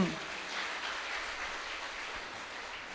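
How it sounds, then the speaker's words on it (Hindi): A crowd claps steadily at a distance during a church fasting retreat, a faint continuous patter of many hands throughout. "फिर से और एक बार ताली बजाएंगे"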